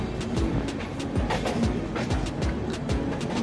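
Azad Hind Express passenger train rolling past on the Howrah to Pune route, a steady close rumble with repeated clickety-clack wheel beats over the rails, continuous and loud throughout.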